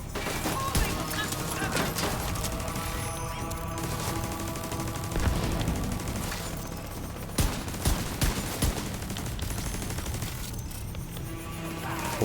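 Heavy machine gun fire and dense rapid gunfire in the video game Division 2 fill a busy, loud battle mix with sharp bursts throughout.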